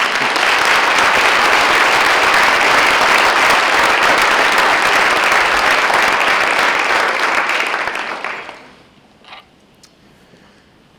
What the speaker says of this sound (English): I actually think that deserves a round of applause.